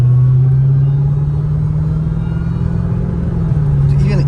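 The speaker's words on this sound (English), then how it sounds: "This car freaking whines." A Hellcat Redeye cruising on a city street in eco mode gives a steady, close engine drone with a thin whine held at an even pitch, a low rumble beneath it and no talk.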